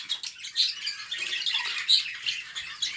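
Budgerigars squawking in an aviary, a dense, continuous chatter of shrill chirps and squawks from many birds at moderate distance, with no talk.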